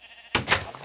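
A single short sheep bleat rings out in the block-building survival game TerraFirmaCraft, close and clear in a quiet barn, heard alone.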